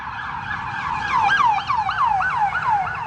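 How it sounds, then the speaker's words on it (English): Emergency sirens wail repeatedly at a fast, warbling pace, moderately distant and alone without talking. "sirens all the time."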